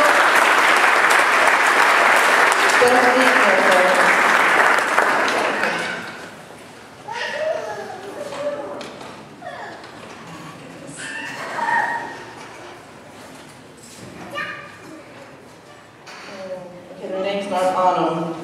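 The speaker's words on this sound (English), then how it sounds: "you can go ahead and clap for them" A school awards ceremony audience claps for award winners, a dense loud round of applause that fades after about five seconds into a hall where a person talks.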